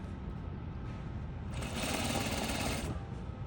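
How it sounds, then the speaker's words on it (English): A sewing machine stitches through fabric with a steady, close mechanical whir that swells louder and faster through the middle before easing back, with no voices over it. "So I'm gonna do 3 stitches and then I'm going to reverse. And now I'm gonna stitch to the end."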